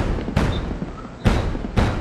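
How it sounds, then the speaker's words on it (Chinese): Fireworks bursting in Guild Wars 2, three sharp booming blasts spaced under a second apart, each followed by a short crackling decay, loud and close. "在放烟火"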